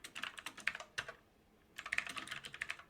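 Quick bursts of clicky typing on a computer keyboard while entering git commands, two runs of rapid keystrokes split by a short quiet pause, close and fairly soft.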